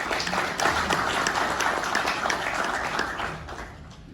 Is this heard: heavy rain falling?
no